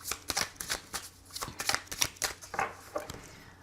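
Tarot cards being shuffled and cut during a reading, a quick run of crisp papery riffles and soft slaps repeating steadily at close range with no voices.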